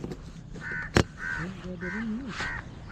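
A crow caws several times in short, harsh calls near a graveyard in the morning, with one sharp knock and faint voices in the background.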